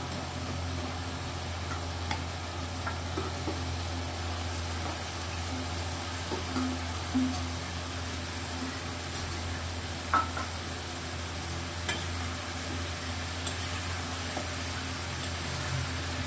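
Kaikka sea fish being stirred into fried onion, tomato and spice masala in oil, a soft continuous sizzle with occasional scrapes and clinks of the spoon against the pan.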